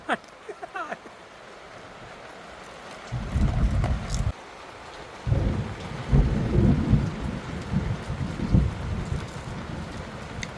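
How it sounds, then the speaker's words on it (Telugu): Steady rain with rolling thunder, loud rumbling bursts swelling and fading over the downpour, no voices. "బయట వర్షం అండి మంచి వాతావరణం"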